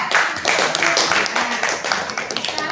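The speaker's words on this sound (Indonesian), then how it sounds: "tepuk tangan untuk kelompok 3" A classroom of students claps for a student group during a social studies lesson, a short burst of brisk hand claps with some irregular taps, close and lively, mixed with faint voices underneath.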